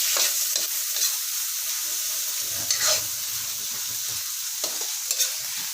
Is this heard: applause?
no